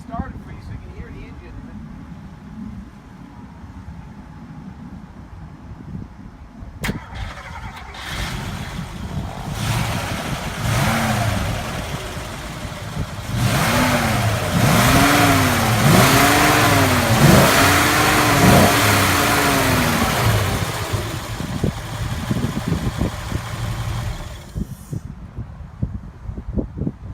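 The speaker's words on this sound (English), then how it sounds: "I'm gonna go ahead and start it for you so you can hear the engine." A 1964 Mercedes-Benz 300 SE engine fires up and idles, then revs repeatedly with rising and falling pitch before settling back, loud and close, with speech faintly underneath.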